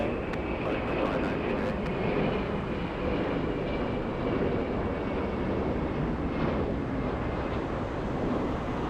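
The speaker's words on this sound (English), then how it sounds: "Let's go over to the next takeoff. And we have an A321." An Airbus A321 airliner takes off at Atlanta's Hartsfield-Jackson airport, its jet engines making a steady, broad roar that stays loud and even throughout, with faint voices in the background.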